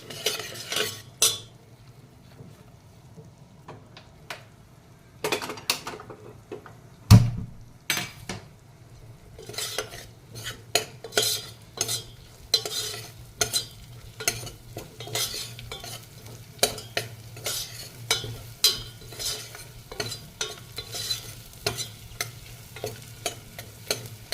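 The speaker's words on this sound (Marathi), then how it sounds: "ते पण यासोबत छान परतून घ्यायचं आहे" Mushroom curry being stirred and sautéed in a pan, with a steady close sizzle of frying broken by repeated scrapes and clinks of a spoon against the metal, continuing throughout with no talk.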